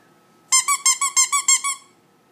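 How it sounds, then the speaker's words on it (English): A squeaky dog slipper toy gives eight quick, evenly spaced squeaks in a bright, rhythmic burst, close and clear with no talking. "That's her slipper. Look, it squeaks."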